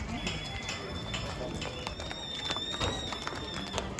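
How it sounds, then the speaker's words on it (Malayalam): Horses clip-clopping along a trail at Pahalgam, with close, uneven hoof taps running steadily through a busy outdoor background and birds chirping faintly. "പോണ വഴി നിറയെ കുതിരകളാണ് കേട്ടോ."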